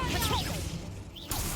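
Incendio fire spell cast in the Hogwarts Legacy video game, a loud swishing whoosh of magic sweeping through with a second burst near the end, set against dense game sound.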